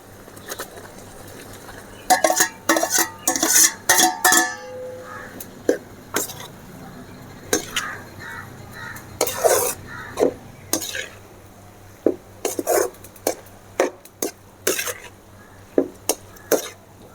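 Rice stirred into boiling coconut milk in a pan, with a metal spoon clinking and scraping against the pan in repeated short knocks over a low steady simmer, close up and fairly quiet.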